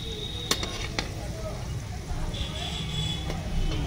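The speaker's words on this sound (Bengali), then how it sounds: "এইরকম মিডিয়াম ফ্লেমে সুন্দর করে উল্টে পাল্টে ভেজে নামিয়ে নেবে।" Hinche greens pakoras fry in oil over a medium flame, giving a steady low sizzle that runs throughout, with a few faint clicks on top.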